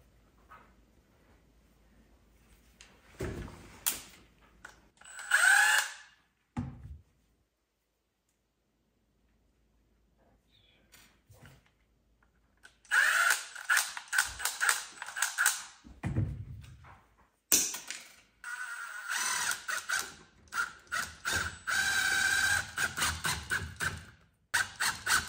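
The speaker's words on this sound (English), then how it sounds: "Our screws are too short now. So now I have to cut these ones to length." Power tool cutting screws to length while finishing an off-grid house in the woods, heard as loud grinding bursts around 13–16 s and again from about 18 s onward, with clicks and thunks between the cuts.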